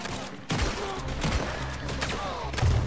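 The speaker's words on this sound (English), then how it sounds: "I can shoot even though I'm dead." Rapid volleys of gunfire from Red Dead Redemption 2 crack repeatedly over a dense, busy game soundscape, with several loud shots bunched into bursts through the clip.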